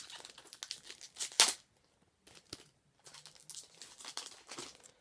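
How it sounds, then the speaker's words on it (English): Pokémon trading card packs torn open by hand, with close crinkling foil wrappers, a sharp rip, a short pause, then more crumpling and rustling. "we will go ahead and open up the packs of cards"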